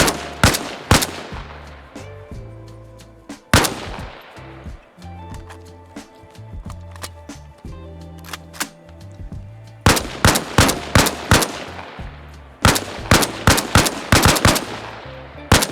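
AK rifle gunfire aimed at the fuel tank of a US vehicle: sharp bursts and single shots with echoing tails, crowded clusters near the start and end, quieter spaced shots between.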